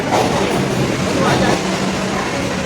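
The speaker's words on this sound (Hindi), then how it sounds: "जस्ट गोटे ट्रेन पास करगला" A train passes close by in a steady, loud rumble and rattle that fills the whole stretch, with a voice faintly present underneath.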